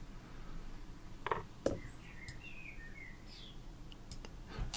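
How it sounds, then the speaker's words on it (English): Birds tweeting outside an open window, a few faint, brief chirps and calls scattered over a steady indoor background hum. "You might be able to hear birds tweeting in the background."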